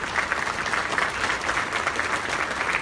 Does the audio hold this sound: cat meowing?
no